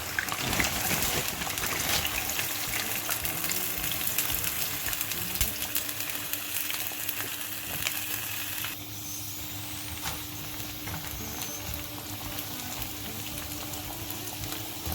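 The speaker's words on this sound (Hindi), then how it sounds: "ये मैं भिंडियाँ फ्राई करने लगी हूँ" Frozen okra fries in oil with a dense, steady sizzle that fills the whole stretch. The noise is loudest early on and eases slightly about halfway through, and no one speaks.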